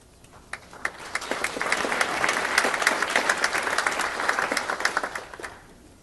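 Applause from an audience at a business forum panel on renewable energy in Japan, steady clapping that swells and then fades, with no voices over it.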